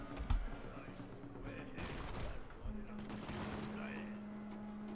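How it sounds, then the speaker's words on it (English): Musket volleys crack across a Total War: Shogun 2 battlefield in a clustered burst of shots around the middle, over a steady low battle hum, with a talking voice underneath. "They got the volleys off"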